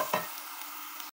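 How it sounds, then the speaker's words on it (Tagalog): Garlic fries in a pan for Mongolian beef, a steady close hiss of sizzling oil that opens with a brief stir and then cuts off abruptly. "ipita natin yung garlic."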